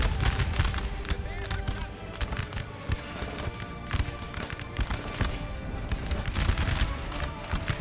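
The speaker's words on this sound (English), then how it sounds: "Got brave skirmish boys firing away." Skirmishers firing muskets in a Napoleonic battle for a town in Napoleon: Total War, a dense crackle of scattered shots overlapping with battlefield din, sustained and fairly loud throughout, with a voice talking over it.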